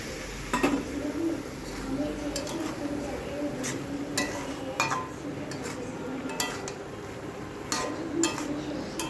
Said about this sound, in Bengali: মশলার জলটা আমি দিয়ে ভালো করে নেড়ে নেব